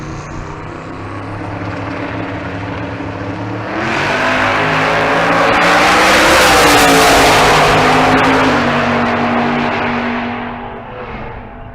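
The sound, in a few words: Audi drag race car launching down the strip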